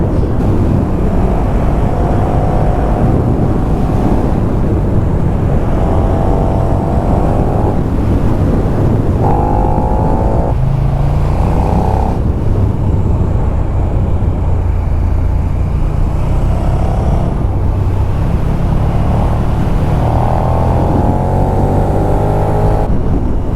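A KTM 1290 Super Duke R EVO motorcycle on a break-in ride along a scenic route, its engine tones rising and falling beneath a constant heavy roar of wind buffeting the microphone.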